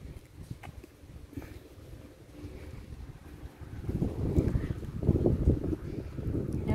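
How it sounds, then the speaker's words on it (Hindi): Gusty wind blows at a beach, rumbling into the microphone in low buffeting waves that build louder in the second half, with no clear talk over it. "आज तो माशाल्लाह माशाल्लाह बहुत ही अच्छी हवा चल रही है"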